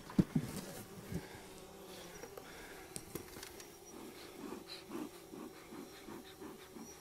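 Honeybees buzzing in an open hive with few bees, a faint low steady hum with occasional soft bumps and rustles close by.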